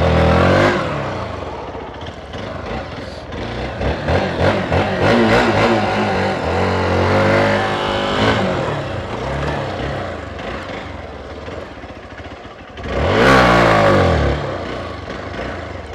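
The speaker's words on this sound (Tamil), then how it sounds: "வண்டி ஆஃப் ஆயிடுச்சு மறுபடியும் ரீஸ்டார்ட் பண்ணிட்டோம்" Hero Xpulse 200 4V motorcycle engine restarting and revving on an off-road ride, loud and close, with rising and falling revs and a sharp burst of throttle near the end.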